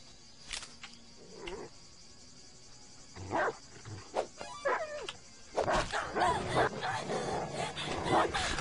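Dogs barking inside a parkour survival video game, several sharp barks and yips spread across the clip over a steady game hum, with a louder, busier burst of barking near the end.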